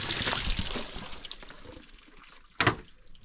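Water rushing from a pipe at full flow while hauling water, a strong hiss and splash that eases off in the middle, then one sudden brief burst of spray near the end.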